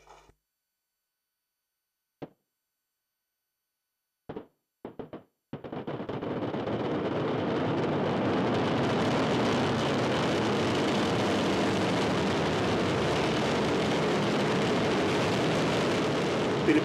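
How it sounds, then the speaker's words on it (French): Arianespace launcher lifting off as its Vulcain main engine and solid boosters ignite: a few brief sharp bursts, then a sudden, sustained, very loud broadband roar that holds steady and fills the scene. "Allumage Vulcain. Allumage EAP, décollage."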